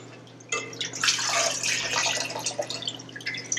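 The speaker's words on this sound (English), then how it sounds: "I am going to drain everything into this big bowl" Liquid from fermenting apple scraps drains through a cheesecloth-lined colander into a large bowl, a close, busy trickle and patter that starts suddenly and keeps splashing unevenly.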